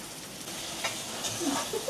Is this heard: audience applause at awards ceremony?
no